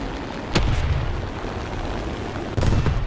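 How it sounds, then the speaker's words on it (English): Bombs hitting a tank in War Thunder, two heavy booming blasts about two seconds apart, each a sharp crack followed by a rumbling low tail over steady background noise. "I'm going to try and bomb the tank"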